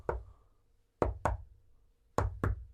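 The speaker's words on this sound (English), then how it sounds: "on the barrel, they give it the secret knock, okay? And the secret knock goes like this." Knocks on a barrel in a patterned secret knock: one rap, a pause, then two quick pairs of close, sharp raps with a low resonant thump, heard alone.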